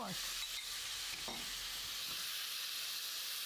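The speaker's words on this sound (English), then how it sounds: "You add a little oil to the pan, and then once it's really hot, then add your pork." Pork stir-frying in very hot oil in a pan gives a steady broadband sizzle throughout, with a few brief stirring scrapes near the start, close and moderately quiet with no talking.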